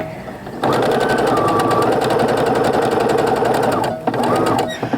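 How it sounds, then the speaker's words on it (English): A sewing machine runs steadily as it stitches a quarter-inch seam on a small quilted Valentine's mug rug, starting after a brief quiet moment and humming continuously with a short slowdown near the end, with no talking. "Then I'm just going to go ahead and start sewing."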